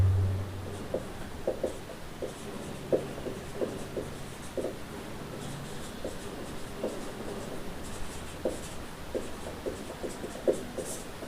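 A teacher writes on a board during a biology lesson on the heart and blood circulation, producing a series of short, scratchy strokes and taps at an irregular pace. The writing is close and moderately loud, and no one speaks.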